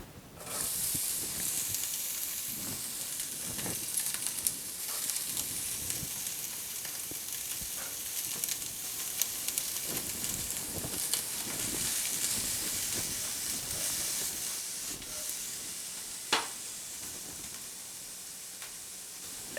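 Onions sizzling in shimmering hot oil in a pan, a steady close frying hiss with a few soft clicks and stir sounds, moderately loud and without talking.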